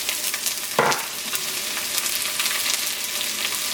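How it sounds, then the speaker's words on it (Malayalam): Dried red chilies and onion fry in hot oil for a Kerala-style cauliflower thoran, with a steady close sizzle and a brief stirring scrape, no talking. "ഉണക്കമുളക് പതുക്കൊന്ന് പൊരിഞ്ഞു തുടങ്ങിയിട്ടുണ്ട്. ഇതിലേക്ക് സവോള ചേർക്കാം"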